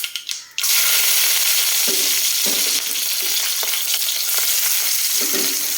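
Garlic drops into hot oil with a sudden loud sizzle that keeps crackling and spitting steadily, with a few scraping stirs.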